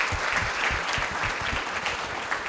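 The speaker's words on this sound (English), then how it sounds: "let's start the discussion by giving our speakers a big round of applause" Audience at a career day applauding the panel speakers, a dense, continuous round of clapping from a crowd, fairly close and full for a couple of seconds.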